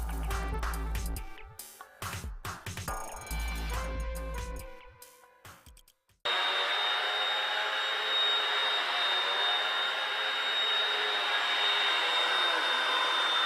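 A Hoover Windtunnel UH70129 upright vacuum cleaner runs on the floor with a loud, steady roar that starts abruptly partway through and holds unbroken to the end, after a stretch of choppy, varied sound.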